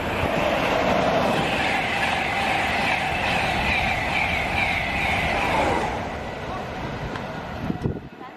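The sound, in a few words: DB Schenker diesel locomotive train at station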